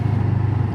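A CFMoto 700CLX motorcycle exhaust giving a deep, pulsing low rumble while accelerating, steady and loud up close for under a second, with no talk.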